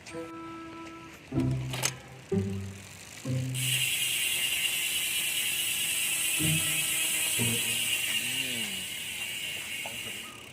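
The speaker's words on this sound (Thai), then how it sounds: "ฟังเสียงโม่หน่อยนะ" Rapid ratcheting clicks from a spinning mountain bike freehub come in short bursts, then a long steady buzzing whir follows, close and clear.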